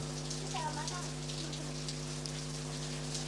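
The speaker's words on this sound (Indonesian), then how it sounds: "Ini Tangerang Selatan hujan ya, jam 3 malah." Steady rain with wind at night in Tangerang Selatan, a continuous hiss of falling rain filling the background over a constant low electrical hum, with no speech.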